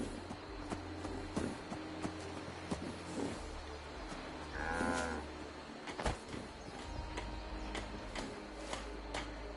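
A single cow in Fallout 76 moos once, drawn out, amid scattered ticking and clicking sounds.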